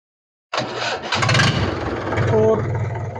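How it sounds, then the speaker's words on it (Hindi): A tractor that had been submerged in water is started with a key: an abrupt crank catches and settles into a loud, steady diesel idle, with someone talking over it. "एक चाबी में ट्रैक्टर स्टार्ट हो रहा है"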